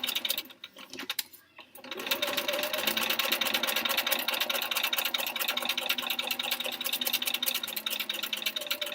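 A sewing machine runs steadily, stitching a quilt block for a sampler quilt, its fast, even mechanical chatter close and continuous for most of the stretch after a brief pause at the start.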